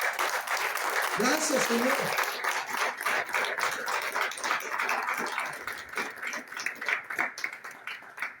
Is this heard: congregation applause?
yes